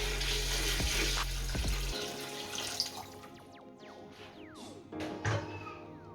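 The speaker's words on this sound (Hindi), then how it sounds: "इसमें हम ये पानी डाल देंगे।" Water poured steadily from a vessel into a pot of rice for chicken biryani in a home kitchen, a continuous gushing stream that tapers off into a few trickles and splashes.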